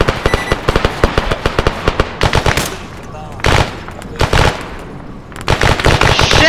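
Gunfire aimed at the rear of a vehicle: loud, close bursts of rapid automatic shots, some single cracks and longer volleys separated by brief gaps.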